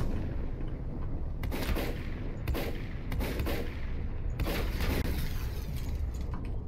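Explosions and gunfire from the volcanic survival game Volcanoids, with several sharp broadband blasts standing out over a dense, continuous din of combat noise.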